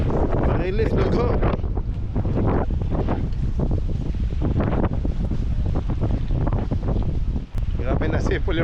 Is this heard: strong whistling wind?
yes